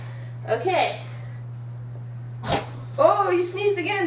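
A Shih Tzu terrier mix dog gives a single sharp, close sneeze between bursts of a person's indoor talking, over a steady low hum.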